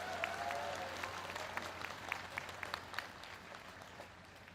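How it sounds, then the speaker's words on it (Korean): A large outdoor crowd at a homecoming welcome ceremony in Bongha village claps steadily throughout, a dense, even applause heard from a little distance with a low hum underneath. "큰 박수로 화답해 주시기 바랍니다."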